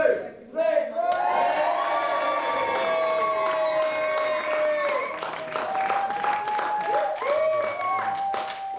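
Wedding guests cheer, whoop and clap at the cutting of the cake, a dense crowd roar with shouts and applause that holds steady throughout, close and loud.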